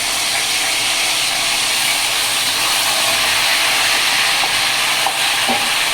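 Onion paste frying in hot oil for a homemade fish curry, giving a loud, constant hissing sizzle with small pops and stirring sounds, steady from start to end.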